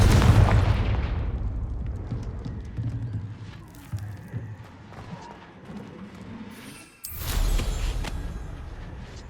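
A Confringo blasting spell in Hogwarts Legacy erupts with a heavy, booming explosion at the start that rumbles and crackles away, then a second sharp blast with debris hits near the end.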